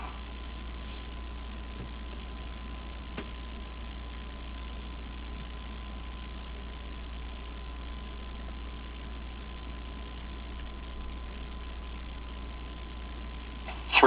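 Space Shuttle Discovery's main engines rumble during launch, a constant, muffled low roar heard steadily through a band-limited broadcast feed.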